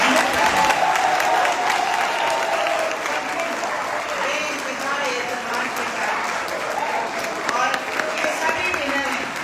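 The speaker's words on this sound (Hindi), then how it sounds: "इनके लिए इतनी तालियां बजाएं" Sustained applause from a college audience at a literary gathering, dense steady clapping filling the room for the whole stretch, with some voices and crowd noise mixed underneath.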